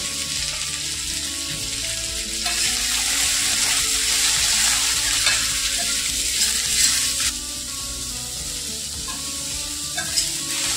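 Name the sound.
onion frying in a little oil in a kadai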